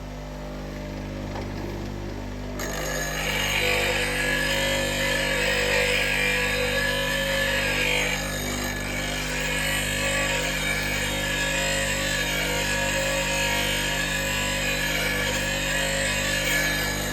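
A bench grinder with a 180-grit wheel sharpens a woodturning bowl gouge, giving a steady, close motor whine with a continuous gritty grinding hiss that swells after a quieter start and runs unbroken to the end.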